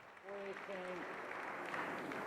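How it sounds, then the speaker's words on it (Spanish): Faint, brief applause rises from the audience at a Valencia Fallas general assembly, with a voice briefly heard at the start. "La ovación en honor también a nuestra fallera mayor de Valencia."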